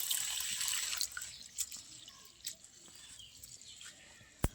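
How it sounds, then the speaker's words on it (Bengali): Moong and chana dal being rinsed together in water, soft sloshing and a few scattered drips close by, fading to quiet splashes near the end. "দুটো ডাল একসাথে ভালো করে ধুয়ে নেবো আমি"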